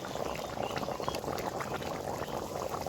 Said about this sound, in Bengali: জলটা ভালোভাবে ফুটে গেছে